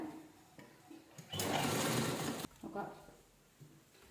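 A sewing machine stitches a fabric circle of blouse cloth layered under a shopping bag, running in one steady loud burst of about a second, with someone talking before and after.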